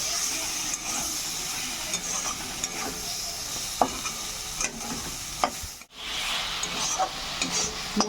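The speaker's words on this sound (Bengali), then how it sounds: "সবজিগুলো দিয়ে একটু কষিয়ে নেব।" Mixed vegetables sautéing with spices in a pan, a bright, steady hiss and sizzle with occasional spatula scrapes, close by and with no talking, then a sudden brief dip before the frying noise returns.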